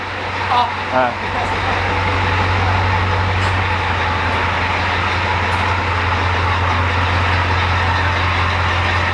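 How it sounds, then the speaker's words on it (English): An IDI diesel truck idles through a NASCAR-style exhaust, giving a steady, even low rumble that stays constant throughout. Brief voices are heard near the start. "For an IDI, it's pretty cool. Yeah, I like what it sounds like at idle now."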